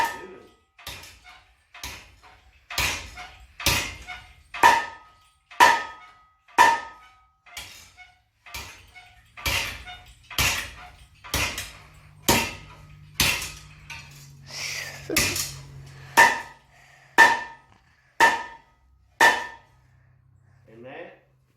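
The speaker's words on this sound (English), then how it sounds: "is the treadle hammer in action" Repeated metallic blows from a treadle hammer flattening aluminum, about two dozen sharp impacts at a steady, slightly uneven pace, close and loud.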